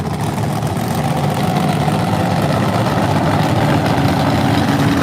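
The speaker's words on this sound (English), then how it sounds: "Top fuel motorcycle on the lights." A top fuel drag racing motorcycle engine at a night event runs as a loud, steady, dense roar that holds for the whole stretch without a break.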